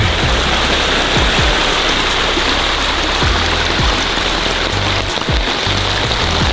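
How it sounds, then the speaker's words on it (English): Water pouring down like a small waterfall at a patio construction site, a loud, continuous broadband rush that runs unbroken throughout with no voices. "Whoa, we got our own waterfall. Wow, look at all that water."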